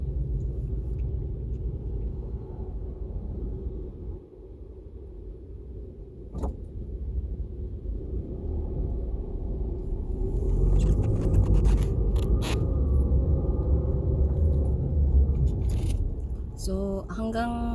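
Cars packed bumper to bumper in a heavy traffic jam, a steady low engine rumble that swells midway with scraping and clicking noises, close and continuous, with a brief voice in the background.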